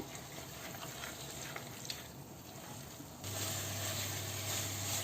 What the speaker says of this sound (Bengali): আমি এখন এটাকে খুব ভালোভাবে নাড়া দিয়ে নেব।